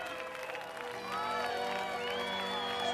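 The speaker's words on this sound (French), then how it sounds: "On l'applaudit bien fort." An audience applauds and cheers for Audrey, a steady wash of clapping and crowd noise that swells halfway through, with a voice speaking over it.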